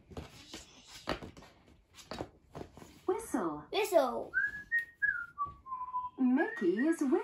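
Mickey Mouse whistles a short, clear melody of sliding tones in a Disney cartoon. The whistling comes after a stretch of character voices and sound effects, with more vocal sounds at the end.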